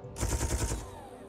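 Weapons firing in the space combat game Space Engineers: a rapid burst of loud, close gunfire lasting about half a second, then a fading echoing tail with no talk.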